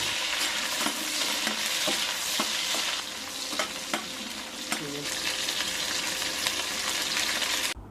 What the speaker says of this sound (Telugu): ఒక చిన్న టీ స్పూన్ మెంతులు ఘాటు పెట్టుకున్న ఏడు పచ్చిమిరపకాయలు కొద్దిగా కరివేపాకును కూడా వేసుకుని ఫ్రై చేసుకోవాలి